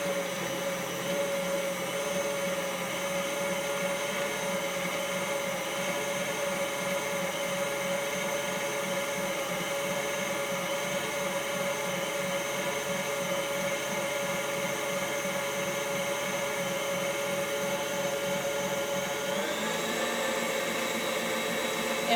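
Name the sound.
electric mixer whipping Swiss meringue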